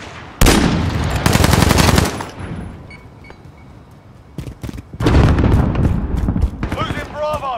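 Automatic weapon fire in Call of Duty: Modern Warfare, two loud sustained bursts of rapid shots separated by a quieter stretch of game ambience, with faint in-game voices and effects toward the end.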